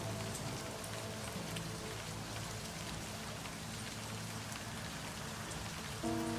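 Steady rain falling on surfaces in the game Livber: Smoke and Mirrors, a dense, even hiss of drops close by with soft music beneath and a brief tonal chime near the end.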